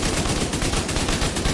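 Sustained rapid automatic gunfire from a weapon in The Division 2, fired continuously at a wall as a steady, loud burst of closely spaced shots with no pauses.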